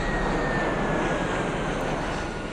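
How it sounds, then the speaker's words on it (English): A jet aircraft engine from the strategy video game Sid Meier's Alpha Centauri gives a loud, steady roar with a thin whining tone running through it, heard alone without speech. "Now, we have a jet."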